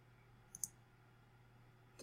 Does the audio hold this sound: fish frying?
no